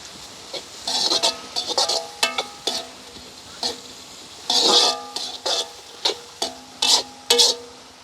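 Onions and green chillies sautéing in a pan for egg kothu, with repeated scraping stirs over a continuous sizzle, each stroke a short, bright burst close by.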